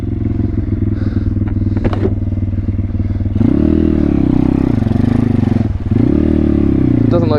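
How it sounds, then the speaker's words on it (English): A pit bike rides a muddy, flooded trail, its small engine droning steadily close by and rising in revs, with splashes, scrapes and clatter over the engine noise. "Trail riding on the pit bike, boy."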